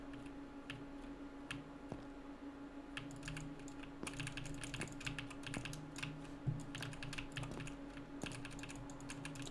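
Computer keyboard keys clicking in quick, irregular bursts while clicking through a video game, a low steady hum underneath, close and fairly quiet, with no talking.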